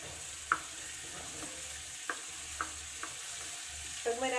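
Garlic frying in olive oil in a pan: a soft, steady sizzle throughout, broken by a few light clinks of a utensil stirring, fairly quiet and close, with no talk.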